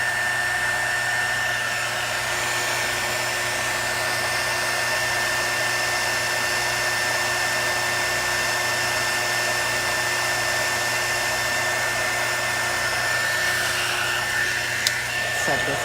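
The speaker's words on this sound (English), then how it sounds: "I'm trying not to get my embossing gun on there." An embossing heat gun blows hot air in a steady, loud whir with a constant whine that holds for the full stretch, a few faint handling clicks near the end.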